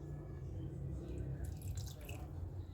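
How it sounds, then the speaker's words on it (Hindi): Lemon juice, from two or three lemons, poured over half a chicken being readied for roasting, giving a faint, brief dripping and splashing against a low background hum. "और इसमें हम जो हैं 2 से 3 लेमन का जूस डाल देंगे"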